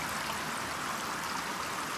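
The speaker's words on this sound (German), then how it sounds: "Aber das Wasser fliegt auch schön, fließt auch schön runter." Water flows down in Pathfinder: Wrath of the Righteous, a steady, even rush of streaming water heard alone at moderate volume.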